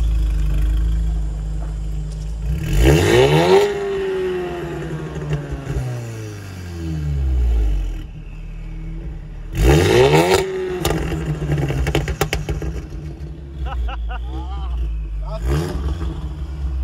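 An Audi S3 8V with a modified exhaust revs hard twice, each time climbing sharply and falling back to a steady idle. A smaller blip follows near the end, heard close and loud.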